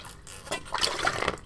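Water is poured or gulped during a short break in a podcast studio, giving a close, bubbling, liquid sound that lasts a little over a second with no talk over it.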